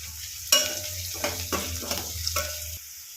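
Turmeric and salt sizzle and crackle in hot oil in a pan while a spoon stirs, with a few louder scraping bursts over a steady low hum, no talking.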